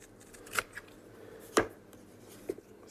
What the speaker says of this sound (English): I always fussy cut with big scissors